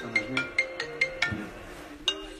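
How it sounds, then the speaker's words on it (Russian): A phone rings for an incoming call with a quick series of bright, evenly spaced electronic tones, moderately close. "Илюха тебе звонит, Сера."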